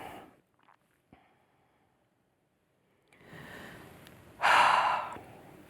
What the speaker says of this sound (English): Let's breathe and reflect on that a moment.